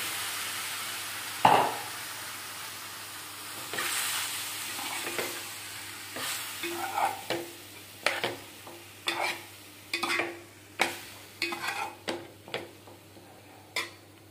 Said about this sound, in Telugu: ఈ గిన్నె పొయ్యి మీద పెట్టేసుకుని ఈ రొయ్యలు వాటర్ పోయే వరకు మగ్గనివ్వాలి